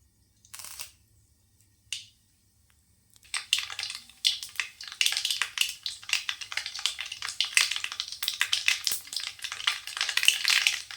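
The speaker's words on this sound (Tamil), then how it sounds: "எண்ணெய் சேர்த்தாச்சு கடுகு உளுத்தம் பருப்பு" Mustard seeds and urad dal fry in hot oil, starting with a couple of isolated pops and then breaking into a dense, crackling sizzle with rapid spatters that keeps going, close and loud.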